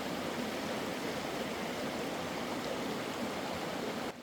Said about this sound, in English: That's all I hear is just a nice flow of water.